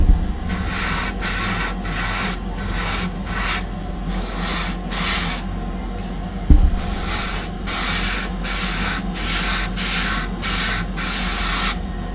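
Repeated short bursts of hissing spray from an airbrush, some quick and clustered, others longer, close by with a faint background hum between them.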